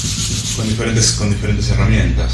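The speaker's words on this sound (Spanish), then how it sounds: "lo que estoy haciendo es con la lija" Rhythmic rasping strokes of sandpaper flattening the sides of a small bone guitar nut for a Gibson Les Paul, close and steady, while a voice speaks over it.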